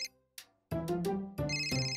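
A mobile phone ringtone plays up close, a bright melodic chime with two short opening notes followed by fuller sustained tones, heard alone.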